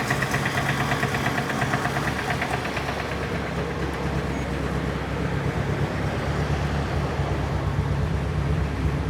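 A cold 1972 BMW 2002 four-cylinder engine idles steadily while warming up, a close, continuous low rumble with a faint rhythmic knock running unbroken through the whole stretch and no talk over it.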